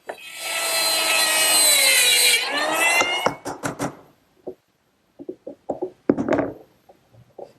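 A power router cuts oak dovetails in a jig, a loud sustained whining cut for about three seconds, followed by a run of short, sharp knocks and scraping clatters as the oak pieces are handled.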